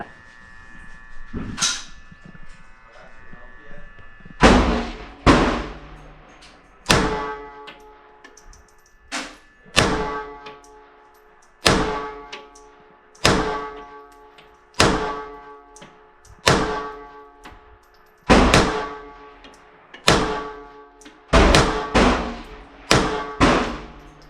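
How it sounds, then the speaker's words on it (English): Ten sharp shots from a Beretta 80X Cheetah pistol ring out at a range target, spaced a couple of seconds apart. Each loud crack decays quickly, with quiet gaps between shots and no talk. "Do our first shot double action, bottom left target."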